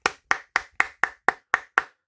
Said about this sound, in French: suivi de mes applaudissements